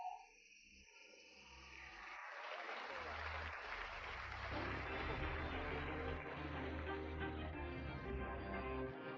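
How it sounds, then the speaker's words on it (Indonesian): Guests at a gathering applaud, and the clapping swells from nothing to a steady, moderately loud wash of many hands that carries on to the end, with a voice heard briefly at the start. "Teman-teman tepuk tangan lebih hangat."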